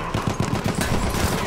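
Rapid gunfire from the video game Battlefield 1, a dense, continuous burst of automatic shots with sharp repeated cracks over a busy battlefield background, loud and close throughout.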